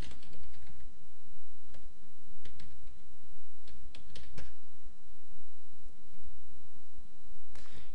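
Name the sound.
typing username and password on a computer keyboard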